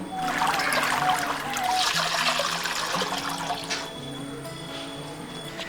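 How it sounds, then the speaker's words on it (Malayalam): Water pours steadily into a cooking pot for several seconds while making mandi rice, a continuous splashing trickle that fades slightly toward the end, with faint clatter underneath. "ആവശ്യത്തിന് വെള്ളം ഒഴിച്ചു കൊടുക്കുക"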